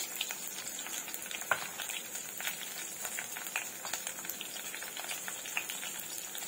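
Crushed garlic and fresh green chili fry in oil for a red pumpkin bhaji, making a faint, even crackle with small spitting pops and occasional light stirring taps.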